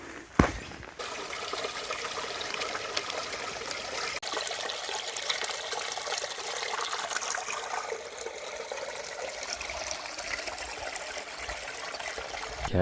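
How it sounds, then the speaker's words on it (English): A river flows along a hiking trail through Butterfly Gorge in Australia's Top End, giving a steady, even rush of water that holds at moderate volume throughout, with no voices. "Okay, the river is starting to widen."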